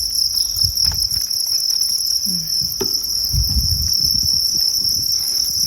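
Steady high-pitched cricket chirping fills a cricket farm, a continuous insect drone with faint low rustling and a few soft knocks underneath.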